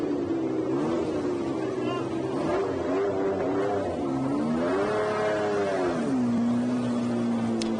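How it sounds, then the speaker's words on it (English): A vintage racing engine at the Le Mans Classic holds a steady, throaty note, rising and falling in pitch as it revs, heard continuously at moderate loudness with no voices. "I just fell silent there to listen to a bit of period engine note."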